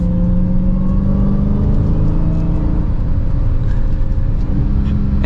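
2022 Dodge Charger SRT Hellcat Widebody under way, a steady loud engine drone with supercharger whine and a low rumble heard from inside the car, continuous with no talking.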